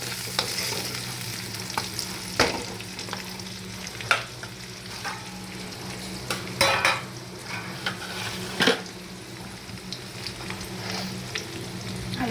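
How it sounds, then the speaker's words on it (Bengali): Potatoes fry in a pan with a continuous sizzle for a fish curry. Scattered clinks and scrapes of a utensil against the pan come through from close by, with no talking. "আলুটা একটু 5 মিনিট আমি ফ্রাই করে নিই, এপিট ওপিট করে বোথ সাইড"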